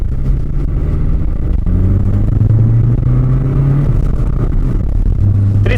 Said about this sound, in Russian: машина аж прыгнула вперед, села на ДБ